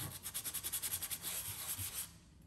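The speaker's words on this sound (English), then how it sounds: "just a bit of sanding paper, and I'm going to rough it out" Sandpaper is rubbed by hand over an MDF board in quick back-and-forth strokes, about a dozen rhythmic close scrapes before a brief smoother stretch and a few more strokes.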